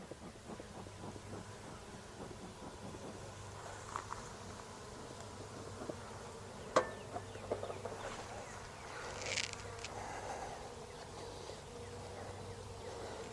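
Honeybees humming around an open backyard beehive during inspection, a faint steady drone with light knocks and handling noises and occasional louder buzzes passing near.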